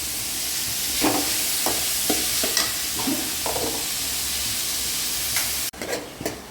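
Cabbage and beans frying in a pan with a steady sizzle, broken by repeated scraping stirs of a spoon and a sharp clatter near the end; no talking.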